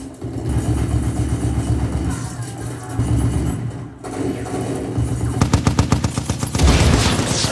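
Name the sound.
machine gun firing in a film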